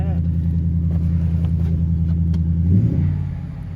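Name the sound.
2022 Jeep Grand Wagoneer 5.0 V8 engine revving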